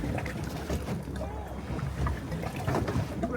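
A boat's engine runs at sea on a vessel with electrical problems and flat batteries, a constant low drone under wind buffeting and splashing water, with a voice briefly heard.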